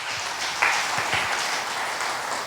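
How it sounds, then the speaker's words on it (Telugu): A church congregation claps during a Sunday service, a dense, continuous burst of many hands that stays even and fairly loud throughout. "చప్పట్లు కూడా దేవుని స్తుతిస్తారా?"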